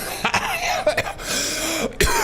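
A person coughs close by, a few sharp separate bursts while preparing coffee spiked with strong moonshine in Mexico.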